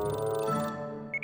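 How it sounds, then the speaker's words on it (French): Reminder alarm ringing on a phone in a children's cartoon, a bright melodic ringtone with layered tones, then two short high beeps at the end, heard alone. "c'est mon alarme de rappel"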